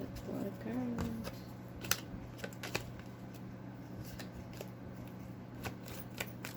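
Tarot cards being handled and drawn, soft scattered taps, flicks and shuffling rustles at close range, with faint steady background hum and brief vocal sounds early on.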